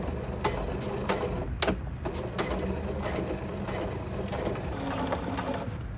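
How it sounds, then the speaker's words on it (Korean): Brother domestic sewing machine running a straight stitch with reverse backstitching, a steady close mechanical whir of needle and feed with regular ticking clicks throughout, no talk. "그 전에 되돌아박기를 하여서 실이 풀리지 않게 해줄 거예요."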